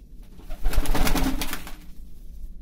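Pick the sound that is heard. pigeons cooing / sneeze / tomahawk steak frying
pigeons cooing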